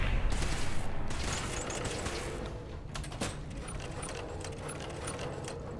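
Gunfire in the video game Fallout 4, a loud burst of shots at the start followed by a dense, continuous clatter of mechanical noise and scattered impacts, with no talk over it.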